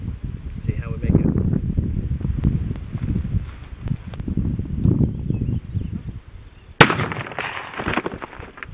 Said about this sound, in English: First shot I'm going to take is with the MFS, the steel jacketed hollow point.